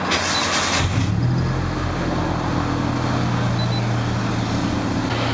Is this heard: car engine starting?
yes